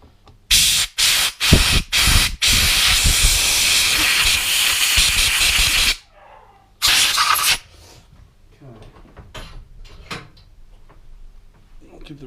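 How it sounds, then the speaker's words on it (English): Carb cleaner sprays onto a Yamaha XS1100 carburetor in several short hissing bursts, then one long continuous blast, followed by a shorter spray, all close and loud. "I'll give the rest of the carb a good going over the carb cleaner around the butterflies"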